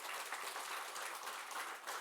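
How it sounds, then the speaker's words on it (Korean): Congregation applauding in comfort and encouragement after a funeral, during a church Sunday service: a faint, continuous patter of many hands clapping, distant and even throughout. "우리 장례를 마쳤는데 위로와 격려의 박수를 좀 하겠습니다"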